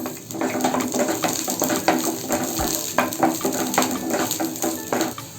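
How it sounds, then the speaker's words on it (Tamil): Garlic cloves, about ten of them, sautéing in a pan for an onion peanut chutney, giving a steady sizzle broken by frequent scraping and stirring clicks, with no talk. "இதே ஃபேனில் 10 பல்லு பூண்டு போட்டு நல்லா வதக்கி எடுத்துக்கலாம்"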